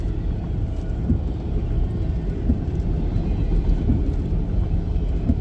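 A CSX freight train with two locomotives passing through Kingston, Georgia: a steady, heavy rumble of rolling railcars with faint rhythmic clunks of wheels over rail joints, continuous and fairly loud throughout.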